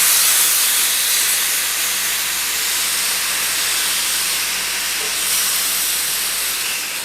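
Jamaican barbecue steak laid on a hot grill gives a loud, continuous, even hiss of sizzling fat and steam, close and unbroken for several seconds with no talking.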